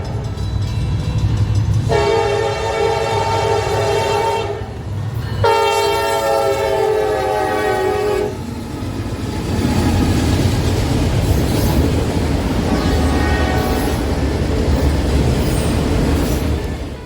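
Norfolk Southern SD60E diesel locomotive rolling past with a loud, close horn sounding two long blasts, then a steady rumble of engine and rail cars with fainter horn tones later.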